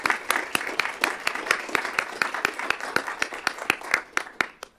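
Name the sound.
applause at a board meeting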